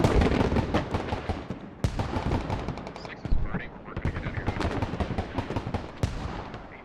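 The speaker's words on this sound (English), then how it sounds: "The mortars are now coming in to hit the ZTZ," Mortar and gunfire in the Squad video game, with motorized PLA forces fighting USMC troops: dense, continuous bursts of rattling fire and heavy booming impacts throughout, with sharp blasts standing out, all under a steady game battle din.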